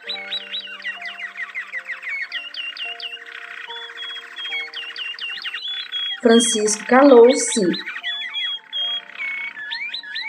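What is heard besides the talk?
birds singing all at once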